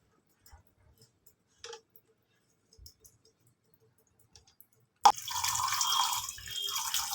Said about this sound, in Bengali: তো ঠাকুরের জন্য জল নিচ্ছি